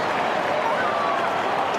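Massive crowd roaring at a night Hawthorn versus Collingwood Australian football match, a dense, steady wash of cheering and noise, loud and unbroken across the short moment, heard from within the stadium.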